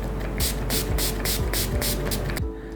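A Colorbar Stay the Day setting spray mists out in about seven quick, evenly spaced spritzes, crisp hissy bursts heard close up with no talking.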